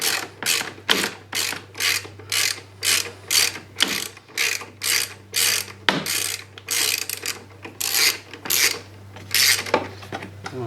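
A hand ratchet clicks rapidly in repeated bursts, about a dozen close strokes, while loosening a tight bolt on a Ski-Doo Rev 800 snowmobile engine during an engine pull, loud and near with a faint steady hum underneath.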